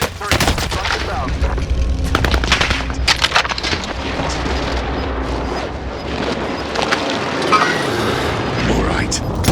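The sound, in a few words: precision airstrike in video game Call of Duty Warzone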